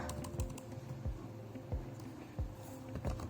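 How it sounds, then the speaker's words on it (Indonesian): Keys tapped on a computer keyboard while entering a Cisco router command, a handful of soft, irregular clicks with thumps between them, close and fairly quiet, with no talking. "pertama kita ketikkan IP DHCP pool"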